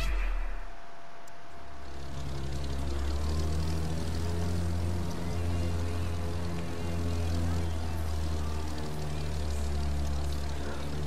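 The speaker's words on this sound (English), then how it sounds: "First time to be flying in the plane." Plane engine droning in The Crew 2, a steady loud propeller hum with layered harmonic tones that swells and holds for the whole stretch, with a soft voice at the start.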